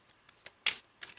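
Tarot cards handled and drawn from a deck, a few soft, close papery flicks and snaps spaced irregularly, with one sharper slide in the middle, in a quiet room.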